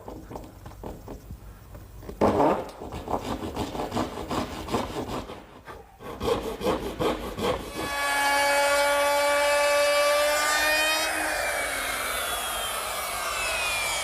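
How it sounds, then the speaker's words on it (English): Hand dovetail saw cutting notches around the leg locations of a wooden pot shelf, a rapid rhythmic back-and-forth rasp of strokes, followed by a loud steady whining machine tone toward the end. "Now to make that cut, I'm going to use my dovetailing saw and go around to each leg"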